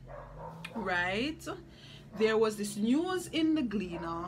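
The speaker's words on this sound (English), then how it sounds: "must apologize for the dogs in the background" Dogs bark in the background in Jamaica, intermittent and moderately distant, mostly underneath a person talking steadily in the foreground.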